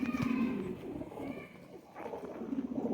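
A Kasuri high flyer pigeon coos in soft, low, repeated rolling calls close by, with a short pause between phrases and faint background noise.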